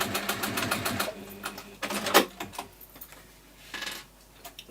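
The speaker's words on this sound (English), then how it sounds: "a narrow top stitch down both sides now" A sewing machine runs fast, rattling top stitching down the sides of a small fabric pocket holder. Short bursts of stitching come close and loud with brief pauses, with a few light clicks between runs.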